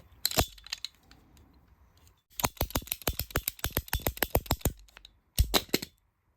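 An old golf ball is cut open, giving a sharp crack followed by a run of quick crunching, snapping bursts and a final crack, close and clear with no talk.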